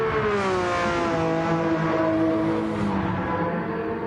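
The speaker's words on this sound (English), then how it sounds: "Oh, these fantastic sounding cars. Always love the Porsche, especially. It just sounds absolutely amazing." Porsche race cars at speed on the Le Mans circuit in a racing league round, one engine screaming loud and close with a steady high whine that slowly falls in pitch as it passes, with no talking.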